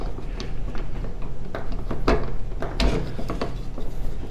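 A 12 mm socket ratchet tightening a bolt on an X-Drive makes quick runs of mechanical clicking with a few sharper knocks, close up and without talk.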